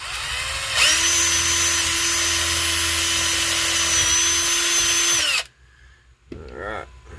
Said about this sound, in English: Let's drill this hole all the way through.